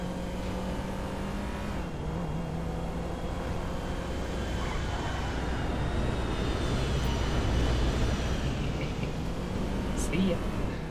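Engine drone of aircraft chasing a car in GTA 5, a steady, fairly loud roaring hum with shifting pitch, mixed with car engine noise, while someone talks throughout.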